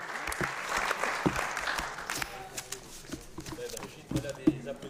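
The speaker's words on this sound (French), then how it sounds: "On a des applaudissements spontanés" After a speech presenting a report on associative vitality, the audience breaks into steady spontaneous applause, moderately loud and slightly distant, with dense clapping that thins out toward the end.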